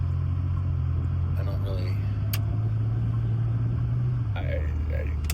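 A 1984 Pontiac 6000 STE, which has a bogging issue, runs with a steady low engine drone heard from inside the car, continuous throughout, while a person speaks briefly over it.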